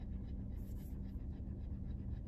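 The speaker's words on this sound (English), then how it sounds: "You hear him panting already?" A dog pants rapidly and steadily inside a parked car with the air conditioning turned off, a close, continuous rhythmic breathing over a low steady background rumble.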